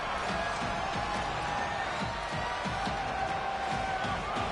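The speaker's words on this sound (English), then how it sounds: "The roar of the crowd trying to fuel this defense to keep them pinned in their own end." A college football video game crowd in a Notre Dame versus Louisville game gives a dense, sustained stadium roar, loud and unbroken throughout, with faint thumps inside it.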